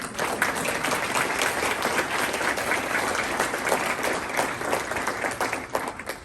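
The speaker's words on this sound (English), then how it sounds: "You all deserve another round of applause." At an entrepreneurial achievement awards ceremony, past winners get a round of applause: continuous crowd clapping of moderate loudness, heard alone without speech.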